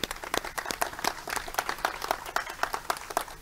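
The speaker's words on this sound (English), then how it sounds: "So a round of applause," Audience applause after a call to congratulate a researcher and his postdoc at a planetarium event, a steady patter of many hands clapping at moderate level, with no voices over it.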